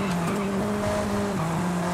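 A car braking in the Forza Horizon 5 racing game, with a steady engine drone and tire squeal running continuously at an even level throughout.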